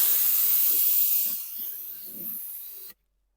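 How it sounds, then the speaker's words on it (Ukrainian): A spray dispenser inside a Scania G410 truck cab gives a long, close, airy hiss that softens partway through, then cuts off abruptly into silence. "Є в цій машині така пшикалочка."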